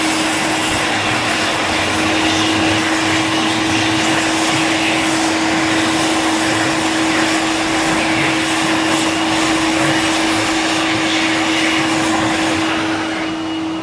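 A Gorillo Blade hand dryer blasts continuously while wet hands are dried, a loud, steady roaring airflow with a constant whine running unbroken for about twelve seconds before it begins to wind down.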